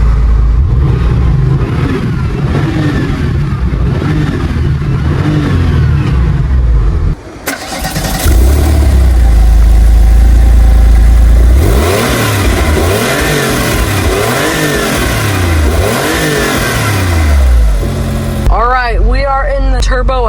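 A 1997 Porsche 993 Turbo S fires up at close range and settles into a loud idle, then revs hard several times in rising and falling sweeps. Voices come in at the end.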